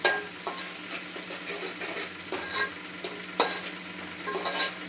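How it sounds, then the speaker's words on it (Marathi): Homemade spice blend frying in hot oil gives a constant soft sizzle, broken by occasional stirring scrapes and light clinks of a utensil against the pan, heard up close. "मला पण आपल्याला 1 मिनिट असं व्यवस्थित थोडंसं परतवून घ्यायचं मसाल्याने।"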